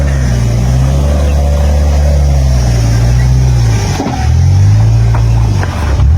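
A motorcycle engine strains loudly up a steep, rocky hairpin climb, a continuous close, low labouring drone that dips briefly and then surges again as the revs climb.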